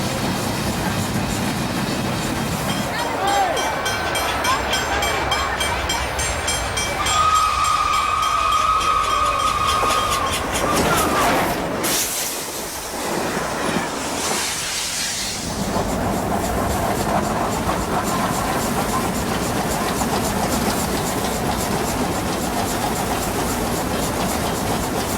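A steam locomotive roars down a standard gauge track toward Melbourne, loud and continuous, with rumbling wheels, hissing steam and a long whistle blast partway through.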